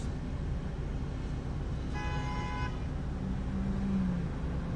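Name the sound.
car horn honking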